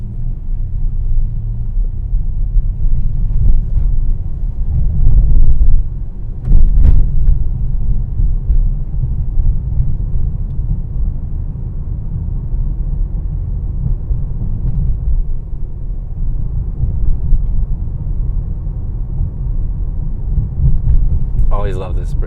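A 2021 Mercedes-AMG E63 S Wagon cruises through city streets in Toronto, giving a continuous deep engine and road rumble heard from inside the cabin, with a couple of brief louder bumps along the way.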